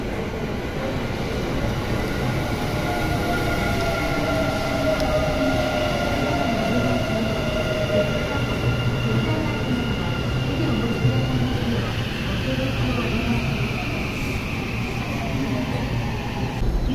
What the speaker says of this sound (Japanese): タイミングよく島風が入ってきました。